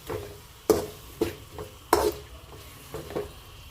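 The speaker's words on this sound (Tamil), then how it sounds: "நல்லா தக்காளி பார்த்திங்கன்னா நல்லா மசிகிற வரைக்கும் பார்த்திங்கன்னா வதக்கிடலாம்" Tomatoes sautéing in a pan for chicken kulampu, with a soft background sizzle broken by several sharp spatula scrapes and knocks against the pan at irregular intervals.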